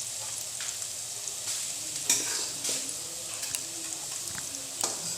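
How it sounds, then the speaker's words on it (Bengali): Vegetables frying in a pan for Bengali jhal suji give a soft, steady sizzle, broken by several sharp spatula scrapes and clinks as they are stirred. "যখন সবজিটা ভালো ভাজা হয়ে গেছে দেখব,"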